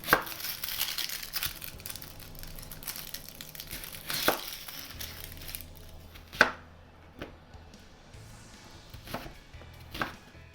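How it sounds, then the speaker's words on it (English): A knife chops through an onion on a cutting board in a home kitchen, giving a few sharp, irregular, close-up thwacks over quiet background noise. "just chop up the onion"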